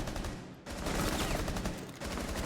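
Sustained LMG fire in Rainbow Six Siege: dense, rapid bursts of close, loud gunshots that pause briefly after the first half-second, then hammer on continuously to the end, with no talk.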